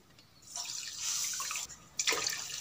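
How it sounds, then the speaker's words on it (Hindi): Water poured from a cup into a pan of sugar on the stove for jalebi syrup, a steady splashing pour with a brief break before a second, stronger gush. "इसमें हम पौने दो कप पानी की डालेंगे"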